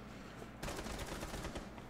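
A rapid burst of gunfire in Rainbow Six Siege kicks in abruptly partway through, a dense rattling volley that runs to the end after a brief quieter lead-in.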